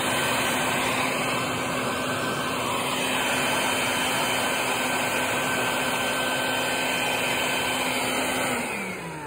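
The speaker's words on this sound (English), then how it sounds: "So maybe easier for me to narrate if I turn the vacuum off." A vacuum cleaner runs loud and close, used to suck yellowjackets from a cinder block wall, a continuous roaring whine with a steady tone that drops as the motor winds down at the end.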